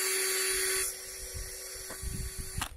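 A drill running at slow speed drives an Archer chainsaw sharpening grinding bit with a 7/32-inch stone on a 1/8-inch shaft, giving a loud high whine that stops abruptly partway, followed by quieter handling clatter and a brief click.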